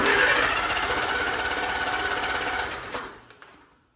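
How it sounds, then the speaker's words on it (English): An electric starter cranks the engine of a 1944 Allis Chalmers B tractor, a loud, fast, steady mechanical whirring up close that runs for nearly three seconds before spinning down and cutting off, with no talk. "will the starter actually turn the motor over now that it's been sort of broken in and warm and oiled up?"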